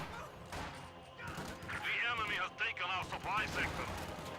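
Gunfire rattles and thumps through a strategy video game battle as grenadiers engage at range and pioneers close in on conscripts, with someone commentator talking continuously over the shots.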